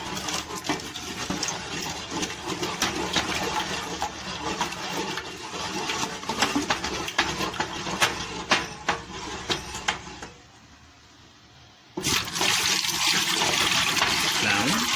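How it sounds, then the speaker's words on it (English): Water is gradually poured and stirred into a liquid soap mix, giving a steady splashing, gushing wash with scattered sharp knocks, a brief quieter dip, then the pouring resumes at full strength. "Water addition should be gradual to ensure proper stirring."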